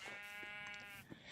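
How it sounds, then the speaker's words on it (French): Sheep bleating in a hardcore survival video game: one wavering, nasal bleat held for about a second, loud and close, then a short fainter trailing sound. "Le mouton."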